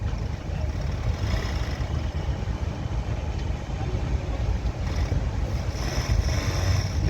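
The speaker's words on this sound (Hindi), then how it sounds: "ये इसका पावर स्टीयरिंग का मोटर है इधर ये ऊपर, जो 212 वोल्ट पे है।" A noisy 12-volt electric power steering motor in a Kia Seltos whirs as the wheel is turned left and right, a steady close rumbling drone with no voices.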